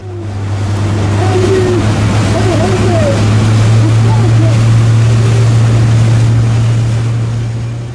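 Fishing boats motoring out to sea in convoy for a May 19 commemoration, with a steady low engine drone throughout, wind and water wash over it, and faint cries or voices in the background.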